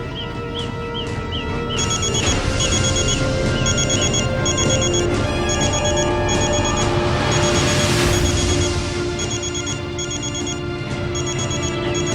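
A phone rings with repeating electronic trills in a steady pattern, loud and close, over a busy background hum.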